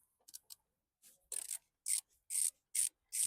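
Crosshead screwdriver working Jubilee hose clips on a Mercedes 220CE engine, giving a series of short close scraping, rasping turns in quick bursts with brief pauses between, no talking.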